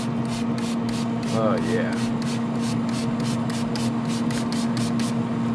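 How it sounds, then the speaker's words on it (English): Martinelli's apple juice spritzed onto smoked chicken from a spray bottle, a steady series of short, soft hisses repeating at an even pace over a constant hum, with a brief spoken remark. "I got some Martinelli's apple juice. Just want to spritz it on there and keep it moist."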